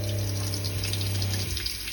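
Water running from a foldable sink faucet inside a shelter, a close steady gush over a low pump-like hum that shifts slightly toward the end.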